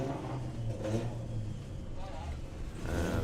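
VW drag race car at Bug Jam running down the strip, a steady mid-distance engine roar with rising revs and a brief swell near the end, faint voices mixed in underneath.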